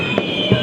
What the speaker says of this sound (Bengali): এক্ষুনি একটা যে সুন্দর বোম ফাটছে